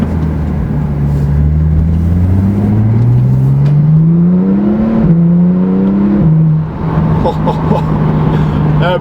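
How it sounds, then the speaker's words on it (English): A 2014 Porsche 911 Turbo S (991) with a 560-horsepower turbocharged engine accelerates hard from inside the cabin. The engine pitch climbs steadily through gear changes with turbo whir, and it stays loud and close throughout. "Absolutely amazing engine sound."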